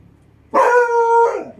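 A dog outdoors lets out one loud, drawn-out bark that stretches into a howl, lasting about a second after a quiet start.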